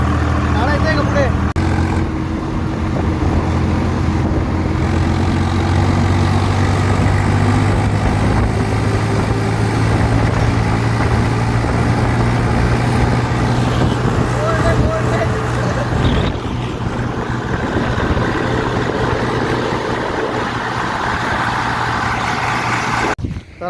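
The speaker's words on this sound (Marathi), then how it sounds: "तर आता आम्ही ट्रॅक्टरवर घरी चाललोय." A tractor engine drones steadily and loudly throughout a ride home along a rural road after selling cotton, a low continuous rumble with voices talking over it.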